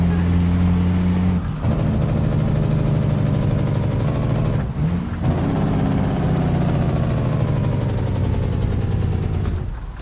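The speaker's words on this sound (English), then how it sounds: "what I love about the engine sound compared to any others is new DD60 from Slabs is really clean" The DD60 truck engine in American Truck Simulator runs as a loud, steady low diesel drone, with a brief dip in revs early on and a sharp hiss-like break midway, then a return to the sustained rumble.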